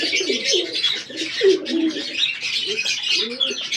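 Pet pigeons coo close by in soft, rolling, repeated phrases, with faint chirps and a little background rustle, and no one talking.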